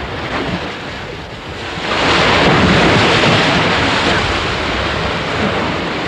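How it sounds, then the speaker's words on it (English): Atlantic surf breaks on a Hebridean shore, a loud, broad roar that swells into a heavier crash about two seconds in and keeps rushing on, mixed with wind buffeting the microphone. "The waves which burst on the US shores have travelled miles in from the Atlantic"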